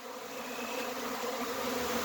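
A honeybee swarm buzzes steadily as it moves into a new home after scout bees have searched it out, a dense, continuous drone of many wings holding at an even, moderate level throughout.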